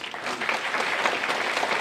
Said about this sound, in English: let's give a round of applause to everyone here